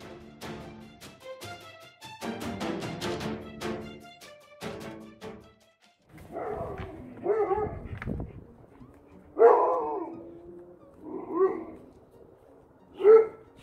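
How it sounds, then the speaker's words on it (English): An Alaskan Malamute barks and yips in a series of close, loud bursts, with whining, howl-like calls in between, while a person speaks nearby. "Why are you barking?"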